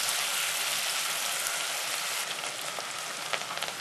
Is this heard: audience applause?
no